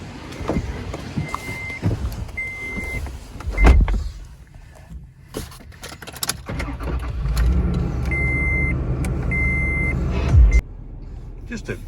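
Toyota Tacoma pickup, a wrecked second-generation truck, being started and moved outside, with power window whirs, reversing beeps and a running engine hum, punctuated by clunks and door-like thumps; brief voice sounds occur.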